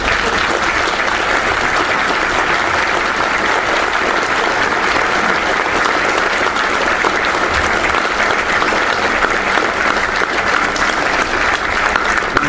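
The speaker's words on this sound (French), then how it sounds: "Des applaudissements." Sustained, dense applause from a large audience at an awards ceremony in Metz, steady and loud throughout with no pause or voices standing out.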